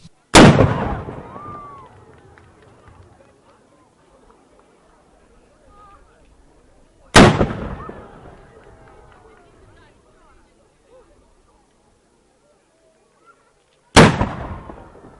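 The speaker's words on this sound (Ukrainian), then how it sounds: "І символічний постріл з 13-ї і навіть 14-ї та 15-ї гармат пролунав." Three loud ceremonial cannon shots boom at regular intervals at the opening of the 2014 tourist season in Chernihiv, each followed by a rolling echo fading out while a crowd murmurs faintly.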